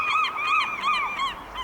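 A seagull gives a series of repeated, rhythmic calls, loud and fairly close, near a bird feeder.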